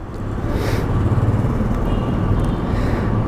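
A Ducati Scrambler motorcycle engine runs close by, a steady loud rumbling idle that rises slightly in a short swell, with no talking.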